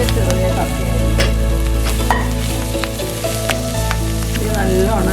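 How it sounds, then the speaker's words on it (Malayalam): Small clam meat roasting in a pan with steady, loud sizzling and frying, scraped and stirred at intervals, with no voices present. "ഇടയ്ക്കിടയ്ക്ക് ഇളക്കി ഇട്ട് കൊടുക്കണം കേട്ടോ"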